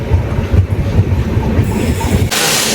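Passenger train, the Uday AC double decker express, pulling into Tirupattur railway station: a steady rolling rumble with rhythmic wheel clatter, close and loud, ending in a burst of broad hiss.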